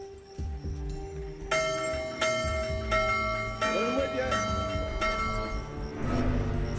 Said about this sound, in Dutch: Ze moet even stoppen met die bel.